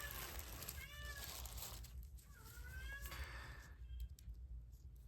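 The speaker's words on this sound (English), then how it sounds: "Oh, my cat's gonna yell at me." A house cat meows indoors in a few faint, drawn-out cries spaced about a second apart, set against a low, steady room rumble.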